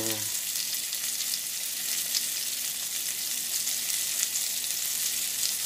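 Beyond Burger plant-based patties fry in a pan with a steady, dense sizzle and crackle that holds evenly throughout, close and continuous.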